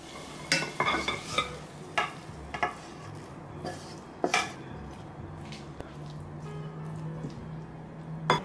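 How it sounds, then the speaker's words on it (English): Stir-fried grilled eggplant being scraped and transferred from a pan onto a plate, with repeated clinks and scrapes of a utensil against cookware and a faint sizzle underneath, close and moderately quiet. "So I'm going to transfer inside the plate."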